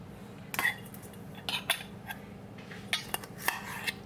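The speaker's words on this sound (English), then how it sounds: "we'll add our half cup of butter" Butter drops into a bowl for a pistachio cake amid clinks and scrapes of a utensil against the dish, several short clatters spaced over a few seconds with no speech.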